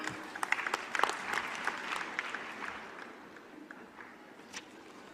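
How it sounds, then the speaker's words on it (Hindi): Audience applause at a youth conclave in Indore, Madhya Pradesh, with a mix of sharp clap bursts early on that gradually thin into a lighter, scattered patter before a final few claps. "तो एक बार जोरदार तालियां हो जाएं।"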